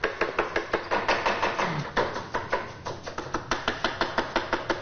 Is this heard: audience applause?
no